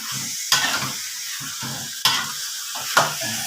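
Spicy pork leg stir-fried in a pan: a steady close sizzle punctuated by three sharp metallic scrapes or tosses at regular intervals, with rhythmic low stirring rumbles between them and no talking.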